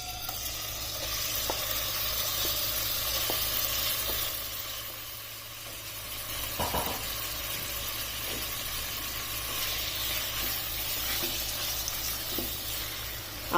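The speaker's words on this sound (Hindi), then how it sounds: "ऑयल गर्म होने पर इसमें मैरिनेट किया हुआ चिकन डाल देना है।" Marinated chicken fries in about three tablespoons of hot oil, a continuous soft sizzle with a low steady hum beneath and occasional faint taps, no voices present.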